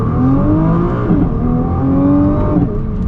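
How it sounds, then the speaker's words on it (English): Nissan GT-R, all-wheel drive, pulls hard at full throttle, its engine note rising steadily in pitch, dipping briefly at a shift, then climbing again, loud and close throughout. "we're gonna get our acceleration here with the GT-R"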